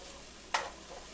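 Apple pork chop stuffing drops into a hot frying pan over a low steady sizzle, marked by one brief scraping burst midway, quiet and close with no talking.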